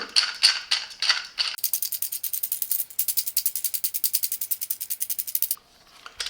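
Clamping screw of a Parkside bench vice with cylinder attachment being wound, a fast run of rattling ratchet-like clicks, a few slower clicks first then a dense even burst that stops abruptly, close and clear with no voices.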